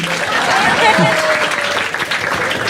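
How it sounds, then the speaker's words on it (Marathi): A stand-up comedy audience claps in a short burst of applause while a voice talks over it, the clapping dense and close for about three seconds. "एकदा टाळ्या वाजवा माझ्यासाठी"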